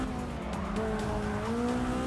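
A race car in the Forza 6 video game fishtailing and skidding, with a steady engine drone and a rising tire squeal that holds throughout.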